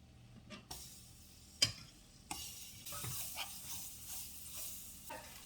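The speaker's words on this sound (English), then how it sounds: "Now I'm gonna put the shrimp in here." Shrimp sizzle and crackle in hot seasoned oil, with a few sharp clinks and stirring sounds over a steady hiss.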